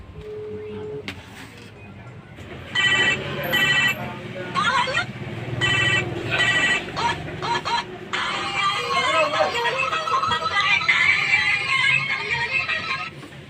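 An outgoing phone call rings out in repeated electronic bursts with short gaps, fairly loud and close, and voices talk over the ringing.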